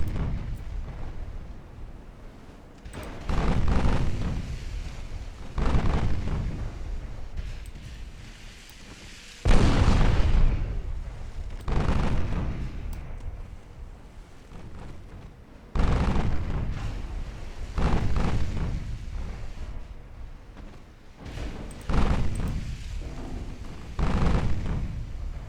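Naval artillery salvos and shell explosions from warships in the naval battle game Ultimate Admiral Dreadnoughts, heavy booms arriving every couple of seconds, each followed by a rumbling decay, loud and continuous with no talking.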